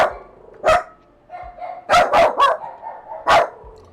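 Dogs bark at a visitor at the front door in a quick run of loud, close barks, some doubled, with softer whimpering yips in between.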